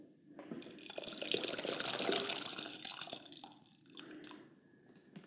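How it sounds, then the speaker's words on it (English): Freshly boiled hot water pours into a Leslie cube, a steady hissing splash that swells for a couple of seconds, then tapers off with quieter trickles and drips. "the next step is to fill up my Leslie cube with some hot water"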